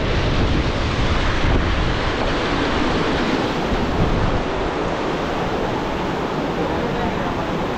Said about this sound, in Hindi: हवा इतनी तेज़ चल रही है